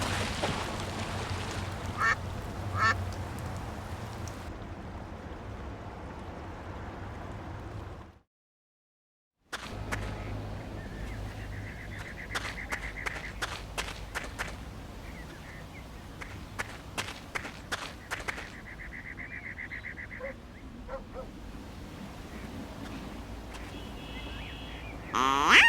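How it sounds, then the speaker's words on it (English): Ducks in the adventure game Secret Files 2 quack in short bursts against a quiet game ambience, with light footstep-like taps, a brief silent gap midway and repeated calls afterward. "This noisemaker seems to appeal to the ducks."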